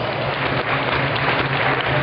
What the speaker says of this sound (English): let's give all 20 contestants as well as the loved ones a big round of applause